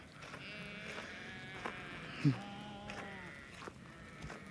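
Sheep bleat repeatedly across a busy outdoor scene, several calls overlapping at middle distance, with one louder bleat close by and soft murmuring in the background.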